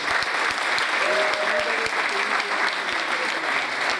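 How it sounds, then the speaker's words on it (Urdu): Audience clapping for themselves during a motivational talk, a thick, continuous round of applause with a few sharp thumps standing out, and a voice murmuring faintly underneath. "اس کے لیے اپنے لیے تالیاں بجا دیجیے ذرا"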